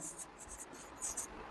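Chalk or marker writing on a board during a science class, a few quick scratchy strokes in short bursts, close and moderately quiet.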